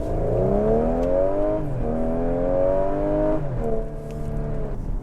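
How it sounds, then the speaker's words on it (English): Supercharged TFSI engine of a 2013/2014 Audi SQ5 pulling hard from a stoplight, revs climbing steadily through two gear changes with a rising whine, loud and close from inside the cabin. "I'm going to put my foot down and let you guys hear the engine."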